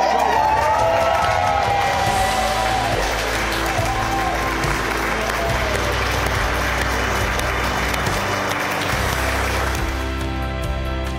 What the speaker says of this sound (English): a round of applause please for the newly married Mr. and Mrs. Aldcroft